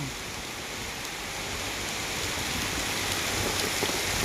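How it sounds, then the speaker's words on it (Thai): Heavy rain in Surin province, Thailand, during a storm, falling as a dense, steady roar that fills the scene without pause and swells slightly toward the end, with no voices. "ฝนตกแรงนะครับฝนตกแรง"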